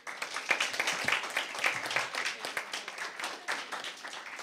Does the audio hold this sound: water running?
no